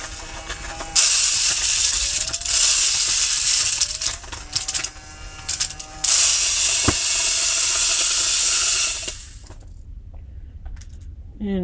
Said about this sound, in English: I've gone twice with the little vacuum cleaner.